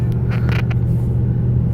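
Huge rescue trucks rolling through a flooded street during a tropical storm in Houston, a deep steady engine rumble close by with faint splashing above it.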